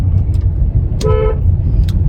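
A single short car horn honk sounds over loud, rumbling engine and road noise nearby.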